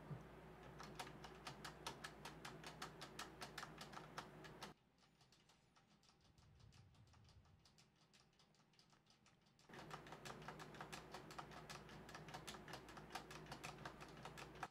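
Keys clatter rapidly on a Corsair K70 mechanical keyboard with Cherry MX Red switches during gaming-style pressing, a dense close run of clicks that stops for about five seconds midway, then resumes at the same pace.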